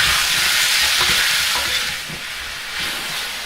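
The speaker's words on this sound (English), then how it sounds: "We've been stir frying for a couple of minutes" Steady, loud sizzling of beef stir-frying in a hot wok, with faint scraping and stirring sounds throughout, dipping slightly partway before rising again.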